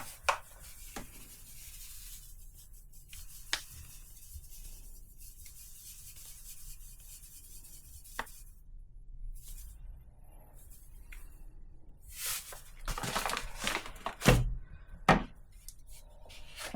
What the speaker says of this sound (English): So now we are going to add in 50 grams of caster sugar.